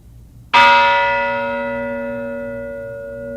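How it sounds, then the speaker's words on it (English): One loud strike of the ship's bell salvaged from the sunken USS Arizona rings out close, then a long, clear metallic tone slowly decays over several seconds with no talking. "the bell you will hear is from the USS Arizona, one of two bells salvaged from the sunken ship"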